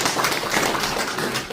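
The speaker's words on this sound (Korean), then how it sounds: "큰 박수 한번 부탁드립니다" An audience at a forum on restoring the sea route to Janggundo island in Yeosu applauds a presenter, a dense, even patter of many hands clapping close by throughout the short moment.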